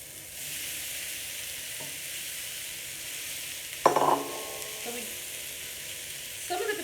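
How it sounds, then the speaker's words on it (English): Peas and potatoes simmer for samosa filling with a soft, continuous bubbling hiss; a brief clatter of stirring stands out midway, and another comes near the end. "we let it simmer for a few minutes"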